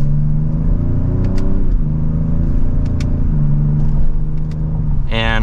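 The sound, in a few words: 2025 Ford Explorer ST accelerating in sport mode, second gear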